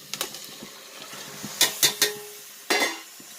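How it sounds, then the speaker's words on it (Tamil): Tomatoes going into a pan and being stirred for tomato biryani: scattered clinks and scrapes of a spoon against the pan, a few louder knocks, over a faint sizzle. "இப்போது தக்காளி சேர்த்துடலாம்."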